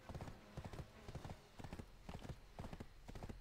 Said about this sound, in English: This is my good horse.